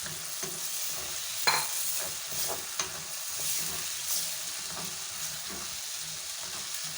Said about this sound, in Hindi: इसको भी मसालों के साथ बहुत अच्छे से भूनेंगे थोड़ा सा चंद सेकंड के लिए।